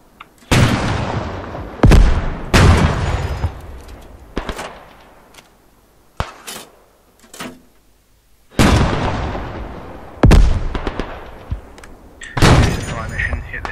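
Heavy artillery shells landing in the WW1 trench warfare game Beyond The Wire, a series of loud, sharp booms spaced a second or two apart, each followed by a decaying rumble, with quieter distant thuds between.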